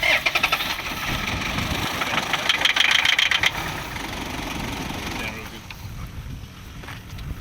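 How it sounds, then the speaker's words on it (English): A Toyota Prado engine idling nearby with a steady low rumble and some rattling, a voice speaking over it before it settles to a quieter, even hum. "Well, it's lucky the engine's still working."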